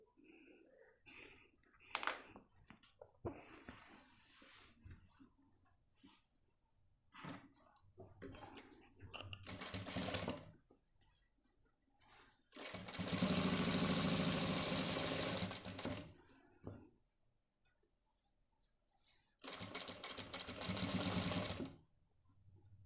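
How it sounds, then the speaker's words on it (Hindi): A sewing machine stitches along the fabric edge of a shirt sleeve and cuff, running in two loud, steady whirring bursts close by, separated by quieter clicks and fabric handling. "इसके बिल्कुल किनारे पे सिलाई लेते हुए आएंगे और इसको बिल्कुल किनारे पे सिलाई मार के हम इस जगह सिलाई ले लेंगे"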